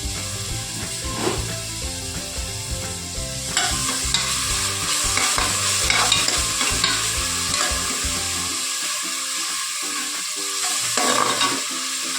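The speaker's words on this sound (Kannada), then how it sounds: "ಅರಿಶಿನ, ಈರುಳ್ಳಿ ಅದಕ್ಕೆ ಹಾಕಿ ಫ್ರೈ ಮಾಡಬೇಕು" A paste of turmeric and onion frying in a hot pan, heard close as a continuous loud sizzle with repeated scraping stirs and utensil knocks, which grows louder partway through, with no voices.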